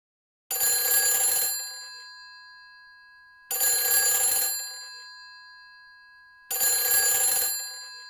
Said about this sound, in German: Im darauffolgenden Patientenzimmer findet Heather ein Telefon.